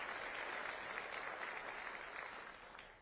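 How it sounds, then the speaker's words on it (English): Applause fills a hall during the 2026 State of Milwaukee County address, a dense, even crowd clapping held at a distance that fades gradually near the end, with no voices over it. "Let's give them another round of applause"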